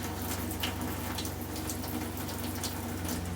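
Cold water runs steadily from a faucet in an RV during winterizing, a faint continuous splashing stream with a low pump hum beneath it.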